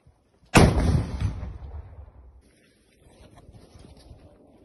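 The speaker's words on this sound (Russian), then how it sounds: "Выстрел." A single loud artillery or gun shot fired in combat near Kyiv, Ukraine, a sharp close blast followed by a long rolling echo that fades over about two seconds, with faint wind noise afterward.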